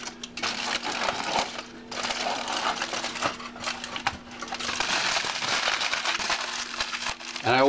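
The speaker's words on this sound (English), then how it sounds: "taking off the back masking on these parts, obviously a very simple job, but I still want to be careful I don't rip anything or smudge anything." Masking being peeled and torn off carbon fiber and epoxy motorcycle fairing parts during an FZR restoration: crinkly, papery tearing and rustling bursts in close, continuous stretches, with a few short pauses.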